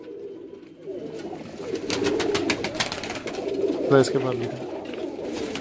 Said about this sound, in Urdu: یہ ہے جی آپ کا پسندیدہ کبوتر دیکھ لیں